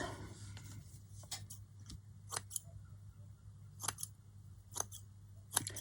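Scissors snip through cheap lace in a quiet room, a series of crisp separate cuts spaced irregularly, close and clear with no talking.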